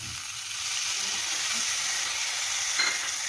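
Spices with onion and ginger paste fry in a pan with a continuous close sizzle and hiss, and no talk over it.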